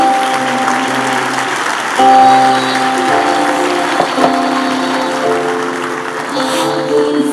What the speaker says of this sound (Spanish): dale un aplauso al Rey bendito.